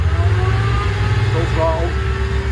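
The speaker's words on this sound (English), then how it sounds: "I'm gonna go full throttle on the port engine first of all here." A Volvo Penta KAD300 285 hp diesel, the port engine of a twin-engine Birchwood 370 Commando boat, runs at full throttle, rising toward 2300 RPM as a loud, steady, close drone with low rumbling harmonics throughout.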